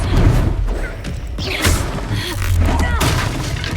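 A Confringo fire-blast spell in Hogwarts Legacy bursts amid a dense game battle, with whooshing blasts and thudding impacts layered over low rumble and brief voices.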